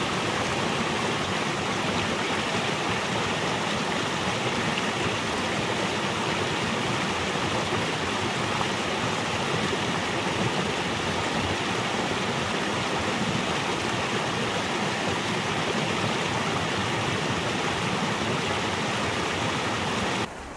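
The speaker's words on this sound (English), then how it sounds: "the water beneath the ice sheet is probably blocked and the water is just overflowing here on the top surface" Meltwater spills over the top surface of an ice sheet in a steady, dense rush, like a stream or small waterfall, loud and unbroken for about twenty seconds with no voices.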